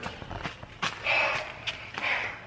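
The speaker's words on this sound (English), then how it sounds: "I hear footsteps." Quick footsteps of someone running in a shop, a series of sharp, close taps and thuds with some rustling between them, heard alone without talk.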